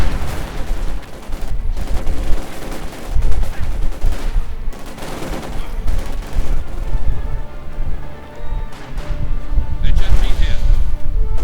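An MG-42 machine gun in a World War II strategy video game fires in repeated rattling bursts, mixed with other gunfire and explosions across a busy battlefield, while a commentator talks over the action.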